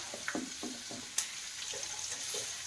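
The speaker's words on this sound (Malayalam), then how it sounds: "ഇതൊന്ന് ലോ ഫ്ലെയിമിൽ ഇട്ടിട്ട് വേണം ഇതൊന്ന് ഫ്രൈ ചെയ്തെടുക്കാം" Curry leaves frying in about a tablespoon of hot oil in a pan on a low flame, a soft steady sizzle with a few light stirring scrapes and one sharper tap, close by and without talking.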